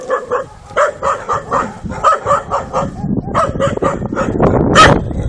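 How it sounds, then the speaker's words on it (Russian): A dog guarding a plot of land for sale barks in a steady run of loud, close barks, breaking into higher yelps toward the end. "И собачка его охраняет."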